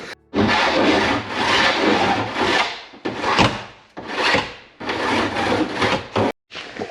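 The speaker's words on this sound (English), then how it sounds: "So now I'm just going to run a file around these edges." A hand file is worked around the cut metal edges of a window opening in a Fiat Ducato van, giving about six loud, close rasping strokes in an uneven rhythm with short pauses between them.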